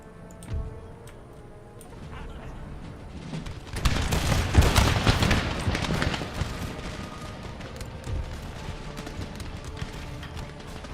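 Canister shot artillery in Empire Total War erupts as a ragged burst of booming volleys and crackling gunfire, swelling in the middle and fading into scattered distant shots.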